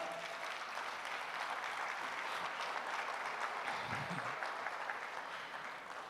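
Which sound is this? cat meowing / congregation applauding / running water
congregation applauding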